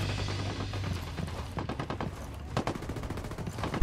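Bursts of automatic gunfire in the shooter game Ghost Recon Wildlands, rapid rattling volleys that overlap and continue almost without pause, loud and close, with no speech.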